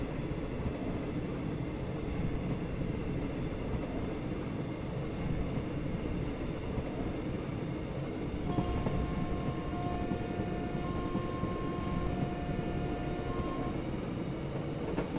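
An Indian Railways train with brown coaches running in parallel, a continuous loud rumble and roar of rolling stock throughout, with faint tonal whistling near the end.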